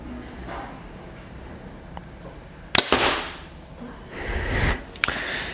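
Two shots from a Bowtech compound bow, each a sharp, close snap of string release followed by a brief rattle of vibration, separated by a couple of seconds of quiet outdoor background.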